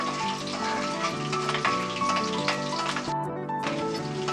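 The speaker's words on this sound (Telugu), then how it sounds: "తర్వాత ఆవాలు వేసుకోవాలి. తర్వాత ఎండుమిర్చి వేసుకోవాలి." Mustard seeds and dried red chilies fry in hot oil for a bitter gourd chutney, producing a steady, close crackling sizzle with dense pops and one brief lull.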